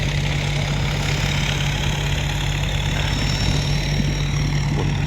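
A boat engine chugs steadily nearby on the Chao Phraya River at Ayutthaya, Thailand, a loud, even low-pitched drone with no break.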